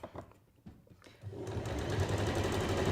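A sewing machine stitches a scrap-fabric quilt, starting up after a moment of quiet handling and then running in a steady, close whir to the end.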